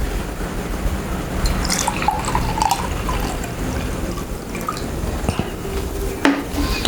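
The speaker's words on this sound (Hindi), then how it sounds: "डाल दिया पानी।" Water poured into an empty glass, a steady splashing fill with a few drips and clinks, close and moderately loud, with no talk over it.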